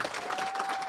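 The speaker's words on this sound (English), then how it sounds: "Can we give Judge Schwartz another round of applause?" A brief stretch of audience applause at a graduation ceremony, many hands clapping at a steady moderate level with a faint steady tone underneath.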